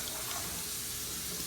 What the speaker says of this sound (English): So we're going to add in again another cup of cold water.